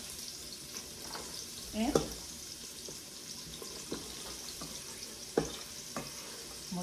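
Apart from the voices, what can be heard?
celery and onions sauteing in pan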